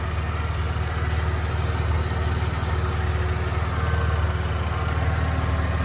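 A 1995 Ford F150 with the 4.9 inline-six engine runs steadily, a continuous low engine drone with a faint whine from the Saginaw power steering pump blended into the hum, with no talk over it.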